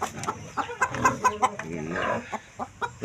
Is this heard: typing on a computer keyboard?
no